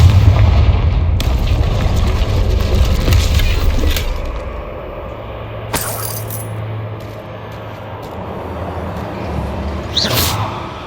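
Bombarda and Confringo spells go off in Hogwarts Legacy gameplay, heavy low booms with sharp cracking bursts and debris clatter, a few blasts spread across several seconds over a rumbling game background.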